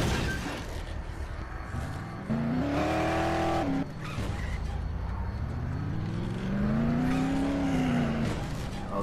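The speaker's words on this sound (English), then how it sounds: "So we're gonna drive the car and you can actually run over zombies." In Dead Island, a car drives with a steady engine drone. Its revs rise and fall in pitch, with tire squeal and skidding near, and brief talk over the motor.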